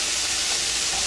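Scallions hit a hot pan of chicken and shrimp stir fry, giving a loud, continuous close sizzle and hiss with no pauses.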